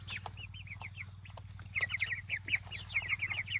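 Chickens cluck and chirp repeatedly on a farm, a busy cluster of short, bright calls that grows louder partway through, set against a steady low mechanical hum.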